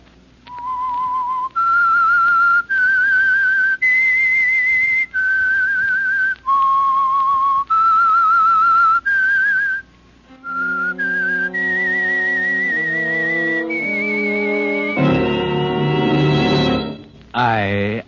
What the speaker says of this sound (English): That whistle, the Whistler.